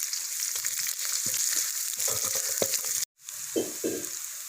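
Steady sizzling of small chopped onions sautéing in a pan for pepper chicken, with occasional stirring scrapes and a brief break in the hiss.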